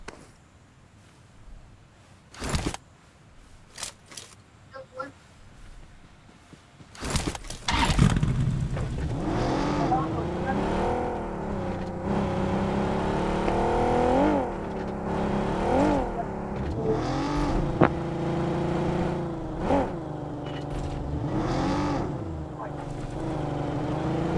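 Vehicle engine in PUBG Mobile starting up after a few sharp clicks, then revving and driving with rising and falling pitch as the car accelerates, loud and continuous.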